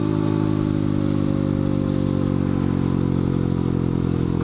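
A Honda Grom motorcycle with a newly fitted exhaust idles close by, holding a steady, even low burble with no revving throughout.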